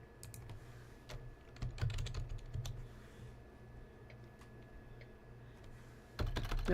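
Someone types on a computer keyboard, a faint, irregular patter of clicks with short bursts and pauses, then a quicker flurry at the end.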